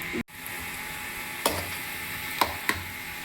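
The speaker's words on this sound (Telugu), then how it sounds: "కొద్దిగా నెయ్యి వేసాం కదండి, వేడికి చక్కగా ఎర్రగా వేస్తే బాగుంటుందండి" Cashews and raisins sizzle in hot ghee as they fry for semiya, a steady close hiss with a few sharp stirring clinks.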